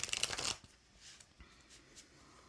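A deck of tarot cards is shuffled in a quick, crisp riffle for about half a second, followed by faint, soft rustling as the cards settle.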